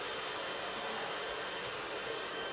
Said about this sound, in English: we got some heat from the blow dryer